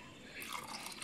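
Water pours into a corn mixture for birimbí, a Colombian corn drink, a faint, close splashing trickle building over a second.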